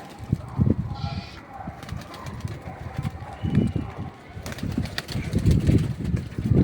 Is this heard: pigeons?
yes